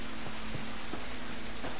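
Steady rain in the survival video game Subsistence, a dense, continuous hiss of falling drops at an even, loud level with no talk over it.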